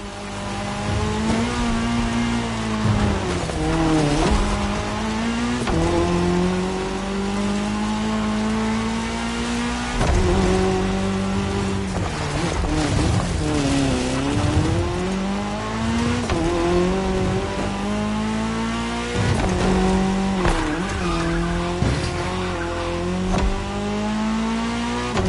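Race cars in a cross-terrain race in the video game The Crew Motorfest, engines revving loudly and continuously through repeated gear shifts, rising and falling pitch with occasional tire squeal.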